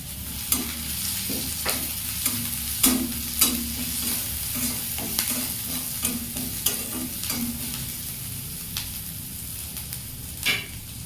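Chopped garlic fries in a hot pan for a Bengali dal and bitter gourd dish, a steady close sizzle broken by repeated scrapes and clinks of a spoon stirring, with no voices.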